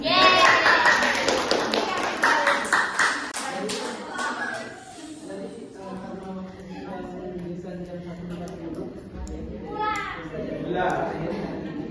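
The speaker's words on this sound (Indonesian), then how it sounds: "Satu, dua, dan tiga, tepuk tangan dulu." Students in a Class X sociology lesson clap their hands together in a burst of close, rhythmic claps that fades after a few seconds, followed by children's chatter and a teacher speaking.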